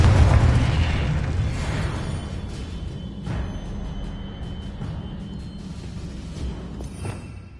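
A Confringo blasting spell in Hogwarts Legacy goes off as a heavy, booming explosion with a deep low rumble. The blast fades into a long crackling tail, and smaller pops and bursts follow.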